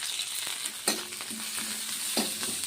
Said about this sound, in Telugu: నేను తాలింపుకి అయితే ఫస్ట్ జీలకర్ర వేసుకుంటున్నా, పచ్చిమిరపకాయలు, ధనియాలు నేనైతే పచ్చగా దంచుకున్నా